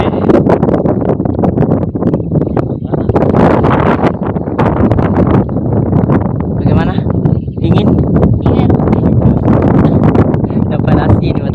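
Wind buffets a microphone outdoors on the road to Lappa Laona in South Sulawesi, a loud, steady roar running throughout with a voice talking over it.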